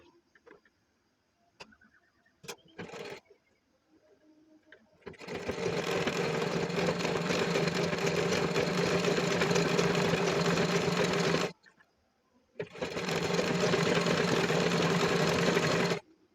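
A sewing machine stitches a blouse after a few faint clicks, running in two long, steady, whirring bursts with a short pause between, close and fairly loud.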